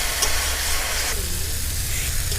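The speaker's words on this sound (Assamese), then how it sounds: "ভালকৈ মছলাখিনি ভাজিব লাগে" Masala spices frying in a pan with a little water for moong dal khichdi, giving a steady close sizzle and hiss with no talking.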